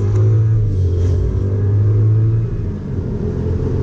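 BMW 535i accelerating hard: a loud, close, deep engine rumble and roar building steadily for a few seconds before easing slightly, with no talking.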